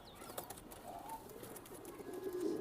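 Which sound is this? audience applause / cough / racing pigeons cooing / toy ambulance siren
racing pigeons cooing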